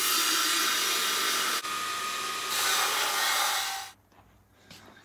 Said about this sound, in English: I'm going to use a Linisher to fix that up